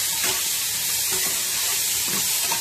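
Chicken sizzles steadily in hot oil in a pan with onion, capsicum, tomato, dried chilli and fennel seeds, a close, continuous hiss broken by a few soft stirring scrapes.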